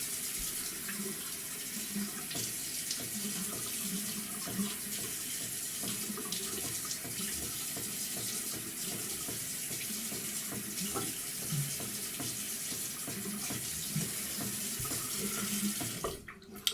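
A tap runs steadily into a sink while someone rinses off between shaving passes, a continuous close splashing flow with small bursts of water disturbance and no speech.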